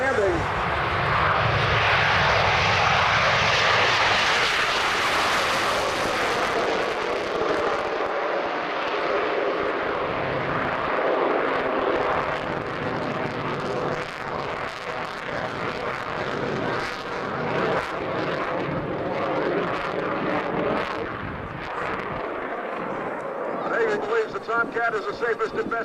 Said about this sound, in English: Have a look at the F-14 Tomcat off to your left.